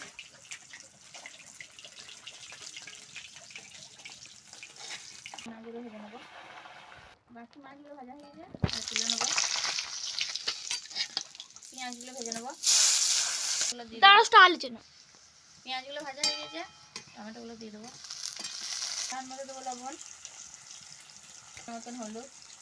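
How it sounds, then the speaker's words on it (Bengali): Intermittent sizzling of pabda fish frying in oil, with bursts of hissing and stirring, under a person talking at moderate volume. "মাছগুলো ভাজা হয়ে গেছে তুলে নেবো"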